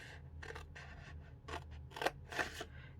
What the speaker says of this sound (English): Now I can cut on that score.